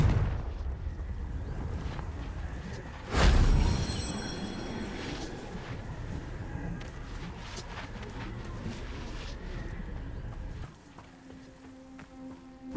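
A Confringo fire spell in Hogwarts Legacy: one sharp, loud blast with a booming tail a few seconds in, followed by rumbling battle ambience and smaller impacts that drop away near the end.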